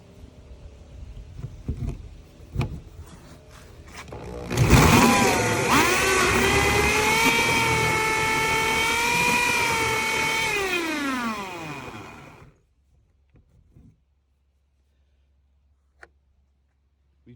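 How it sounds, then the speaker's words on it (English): A power drill bores through a wooden closet door for a handle, kicking in loud and close with a steady whine that bogs down slightly, then winds down and stops, followed by a few light taps. "we're going to continue on drilling until we get to that centerpiece there"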